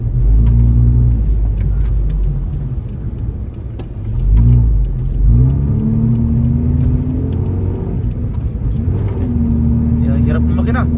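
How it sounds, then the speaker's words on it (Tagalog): Car engine straining on a cold start in Canada, a low, uneven rumble that rises and dips through several revving surges, close by, with people talking over it. "Hirap ng makina,"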